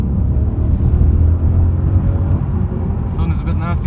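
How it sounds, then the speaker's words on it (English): Honda Civic sedan with a 1000cc VTEC turbo engine accelerating through first into second gear, a steady low engine drone and road rumble heard from inside the cabin, with a voice faintly present. "So let's do another bit of acceleration. First gear, into second gear."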